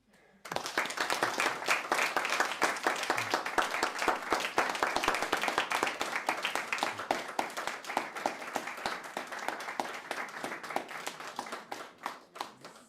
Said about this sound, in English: offer applause to Mr. Lincoln and Cliff Tillotson